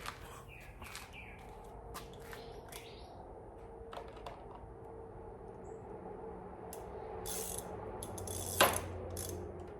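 Ratchet wrench clicking in short bursts while loosening bolts on the cylinder head of a BMW M52 engine, faint and intermittent with metallic taps and birds chirping in the background.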